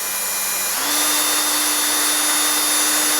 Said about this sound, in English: drilling away